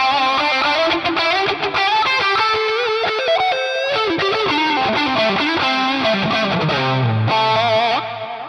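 Electric guitar played through a Mooer GE300 multi-effects unit with distortion, delay and reverb, a dense, sustained distorted riff with chordal and melodic lines ringing continuously at steady loudness, alone without voices.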